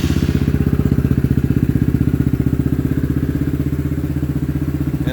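An SSR SR189 motorcycle engine starts without choke and settles into a loud, close, steady rapid thumping idle with no talking.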